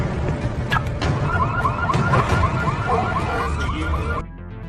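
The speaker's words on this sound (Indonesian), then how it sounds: "Martha menyalakan alarm mobilnya, yang terparkir di belakang markas" A parked car's alarm sounds as a rapid, repeating electronic warble over a loud rumbling background, cycling steadily for several seconds before cutting off.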